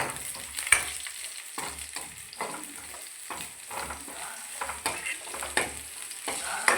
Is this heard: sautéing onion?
yes